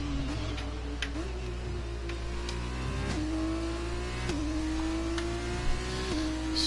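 F1 race cars in a video game lap a track in Russia behind a safety car, a steady engine whine rising and resetting with each gear change, alongside light ticking clicks, with no voices.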